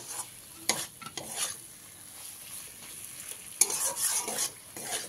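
Potatoes and spices sizzle in a frying pan for a soybean do pyaza curry while a spoon stirs and scrapes through them in a few bursts, close and steady, with no voices.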